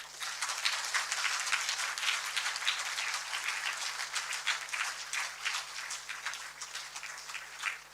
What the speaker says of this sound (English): please give a big clap to the wonderful faculty that you have